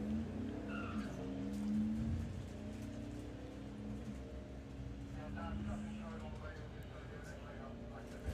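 A drag racing car making a run at Santa Pod Raceway during a Bug Jam event, its engine a steady sustained roar with a rising pitch, heard from a distance under continuous crowd and commentary noise.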